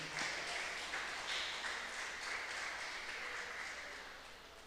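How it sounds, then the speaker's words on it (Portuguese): Church congregation applauding during a worship service, a broad steady patter of many hands heard from a distance, staying fairly even before slowly fading toward the end, with no talk over it. "aplauda Ele porque Ele é digno"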